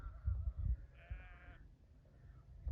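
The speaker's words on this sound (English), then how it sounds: "All the sheep are following him." A flock of sheep bleats on a Yorkshire Dales hillside near Conistone as they trail after a farmer's Land Rover, with a few short, moderately distant calls rising over outdoor wind rumble.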